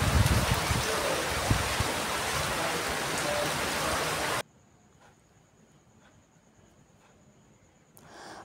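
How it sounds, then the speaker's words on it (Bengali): Heavy rain driven by strong wind on a rooftop, a dense loud hiss for about four seconds before dropping sharply to a faint background with a thin steady tone. "প্রচণ্ড বৃষ্টি হচ্ছে, মানে বৃষ্টির বীভৎস আওয়াজ, আর হাওয়াও আছে প্রচুর"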